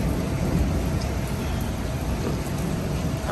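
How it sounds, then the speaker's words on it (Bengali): Heavy rain falls outside a shop as a constant dense hiss with low rumbling underneath, steady and unbroken throughout. "বাইরে বৃষ্টি হচ্ছে অনেক"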